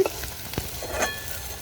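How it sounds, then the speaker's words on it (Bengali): Sliced onions fry in oil for biryani berista, cooked on a rooftop, giving a soft steady sizzle with a couple of stirring knocks, close and without talk. "তো দেখো এখন পেঁয়াজ ভাজা হচ্ছে"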